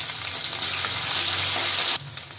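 Ginger and garlic sizzle loudly in a hot pan, a continuous crackling fry with faint stirring, alone without talk.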